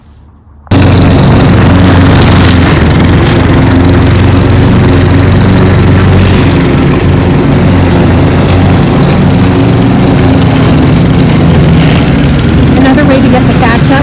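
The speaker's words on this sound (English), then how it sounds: "to go over it with a lawnmower" Lawn mower engine starting up and then running loud and steady over a freshly dethatched, power-raked lawn, a constant close drone after a brief quiet start.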